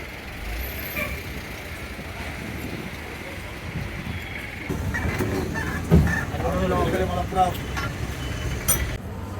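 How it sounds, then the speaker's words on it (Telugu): A city bus on a narrow road in Kerala rumbles along with engine drone and road noise, a low steady hum that thickens halfway through, with occasional hisses and nearby voices. "కొట్టకల్లు బస్సులో వెళ్తున్నాను నేను."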